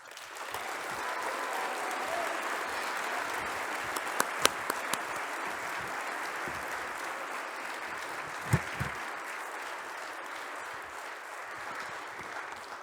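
Sustained audience applause welcomes a professor to the stage at an evening lecture, a steady dense roar of clapping with a few sharp louder claps standing out.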